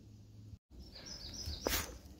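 A bird sings outdoors at a distance near a wetland, a high repeated "teacher, teacher" phrase over soft background noise, fairly faint.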